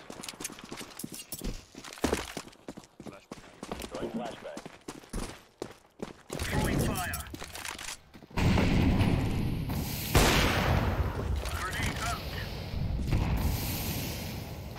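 Rapid AK rifle fire in Counter-Strike 2 crackles in bursts, dense sharp shots early then sustained louder firing and game noise later, with someone talking over parts of it.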